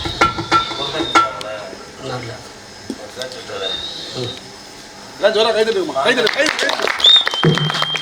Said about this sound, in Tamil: யூடியூப் எடுக்கக்கூடிய நபர்கள் கைத்தட்டுறார்கள்